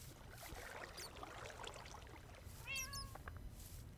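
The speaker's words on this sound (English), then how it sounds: "There's definitely a cat somewhere." A cat meows a few times in modded Minecraft (Foolcraft 3, version 1.12). The short, rising cries come late and sit fairly quiet over steady background game ambience.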